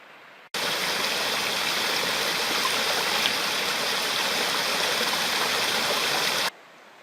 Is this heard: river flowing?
yes